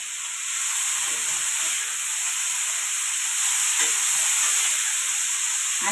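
Masala seasoned with salt and turmeric sizzles steadily while being sautéed in a pan, a continuous frying hiss with a few soft stirring scrapes, close and alone without any talk.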